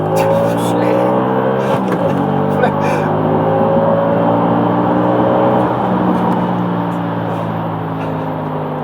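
An Audi RS4 B7 engine pulls hard under acceleration, its rising, sustained roar heard from inside the car through several gear changes, with voices talking over it at moments.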